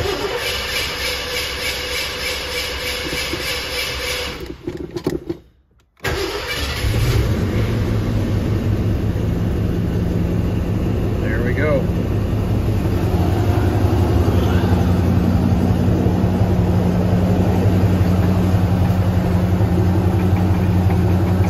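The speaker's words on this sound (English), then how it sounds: "Let me fire it up and we'll see what the stock exhaust sounds like." A 1979 Ford Mustang with its original stock exhaust cranks, fires up after a brief pause and settles into a steady, loud idle that rumbles on continuously; someone speaks briefly near the start.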